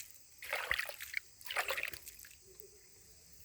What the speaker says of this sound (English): Give it some water.